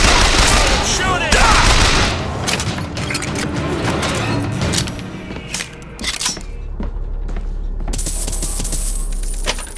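Rapid bursts of gunfire in BioShock Infinite, dense and loud, with sharp repeated shots layered over game effects and a voice calling out between them.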